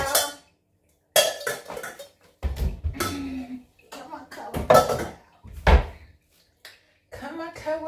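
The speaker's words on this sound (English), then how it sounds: "Let's do our dishes." Dishes, pots and cutlery clatter and clink in bursts while someone washes up, with scrapes and knocks close by and pauses between, and a voice talking or chanting over the clanking.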